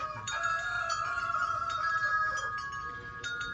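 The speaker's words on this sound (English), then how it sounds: "I hate for a rooster to cut me off." A rooster crows in a long, drawn-out call at moderate distance, steady over a faint background hiss.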